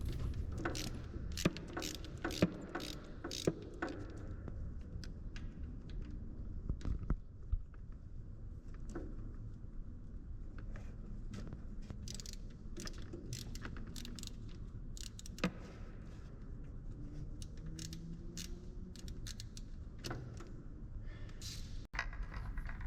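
A GSXR750 motorcycle's valve cover is worked loose and removed. Faint metallic clicks, taps and rattles are scattered over a low, steady background hum.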